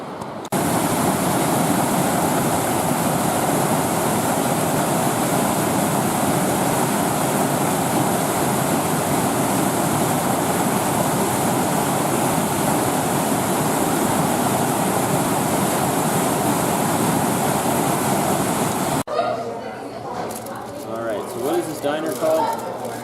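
The French Broad River outside Hot Springs, North Carolina rushes in a loud, steady broadband roar that fills about nineteen seconds, then cuts away to quieter background where voices can be heard.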